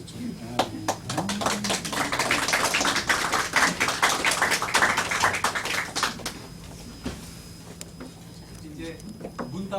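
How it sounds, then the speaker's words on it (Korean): A church congregation claps during a Sunday service, a few scattered claps swelling into sustained applause that fades back to single claps, with murmured voices underneath. "나올 때 박수를 좀 해야 됩니다."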